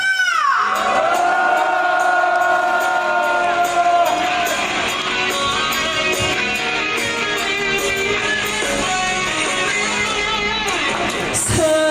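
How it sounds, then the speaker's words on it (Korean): A big crowd of construction workers at a rally outside Suwon Station lets out a long, loud roar of shouting and whooping, sustained throughout, with a held tonal line underneath. "그 거리를 한번 큰 함성으로 질러보도록 하겠습니다"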